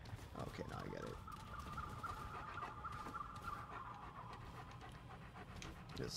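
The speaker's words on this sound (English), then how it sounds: "No, that's my dog." A dog pants rapidly and steadily close by for about six seconds, the quick rhythmic breaths mixed with game sounds and room noise.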